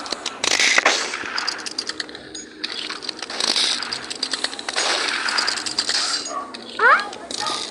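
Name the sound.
gunfire from a gun in a video game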